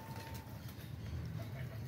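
A pigeon being caught by hand from a rooftop, with a faint low cooing rumble against steady background noise and no talking.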